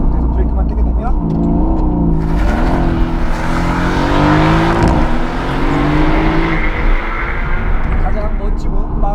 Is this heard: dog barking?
no